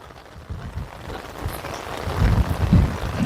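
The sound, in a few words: rain falling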